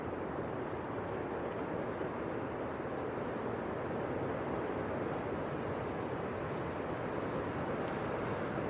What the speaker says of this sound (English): Right, hold on Tom, there's a whopping gust coming through.